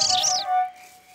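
Small cartoon birds chirp in quick, bright twitters through the first half second of an animated Fireman Sam scene, then fade into a steady held tone.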